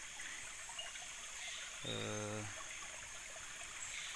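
A small river stream flows about fifteen minutes from town, a soft continuous trickle and babble throughout, with a brief voice-like tone in the middle.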